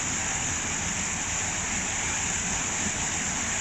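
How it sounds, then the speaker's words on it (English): Loud, steady rushing of water pours continuously through a canal lock sluice without a break, a dense roar filling the whole clip. "soon the water sound will diminish"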